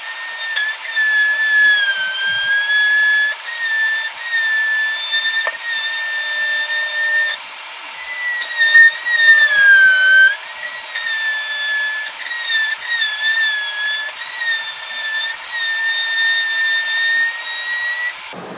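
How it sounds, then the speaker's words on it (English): A tool steadily cutting and rasping through the plastic HVAC box inside the dash of a 2001 Lexus IS300, a continuous close, high-pitched whine with sliding pitch changes that runs for the whole stretch without any talk. "now it's time to create those holes on the existing HVAC box here to make room for the new connection"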